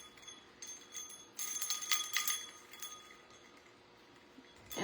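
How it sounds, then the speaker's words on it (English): Small decorative craft bells from Hobby Lobby, used on a gingerbread wreath, jingle in a short bright cluster of tinkling rings midway and fade against quiet room noise. "I think I have used these bells from Hobby Lobby like the last 3 years"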